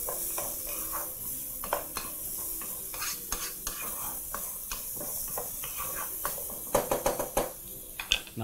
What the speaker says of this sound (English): Once your onions are succulent and juicy, proceed to add your carrots and your potatoes, and proceed to mix through